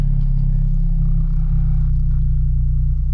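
A Acura RSX DC5 engine runs steadily at idle just after starting, a loud low rumble with a constant hum and light clatter, close up with no talking.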